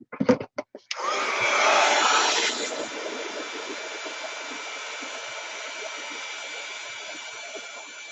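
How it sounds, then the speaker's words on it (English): After a few handling clicks, a heat tool switches on and blows a loud, steady whirring stream of hot air, drying wet watercolor paint on a painting continuously until the end. "Now I'm going to get my heat tool and I'm going to dry that."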